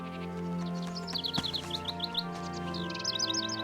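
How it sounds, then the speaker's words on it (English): Cartoon birds sing near a newly hung birdhouse with rapid, repeated high chirps in short bursts. The calls sit over a steady background of music. "they went back to the house with the bird's song ringing in their ears"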